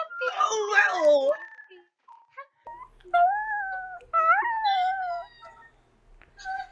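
A puppy gives two rising, wavering wolf-like howls with softer whimpers between them, close and fairly loud, after a burst of other vocal noise at the start.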